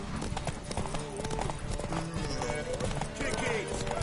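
Horse hooves clip-clopping in The Witcher, a brisk steady trot of rapid hoofbeats under game dialogue and talk.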